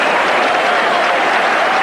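A large football stadium crowd applauds and cheers steadily for a player's surging run at a 1982 Newcastle versus QPR match, a dense, loud wash of clapping with no pauses.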